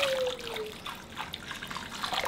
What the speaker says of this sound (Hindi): तो यहाँ पे अभी मम्मी पूरा गर्म पानी ला रहे हैं।